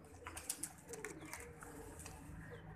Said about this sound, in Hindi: ये अभी उड़ारी वाले मोर वाले कबूतर हैं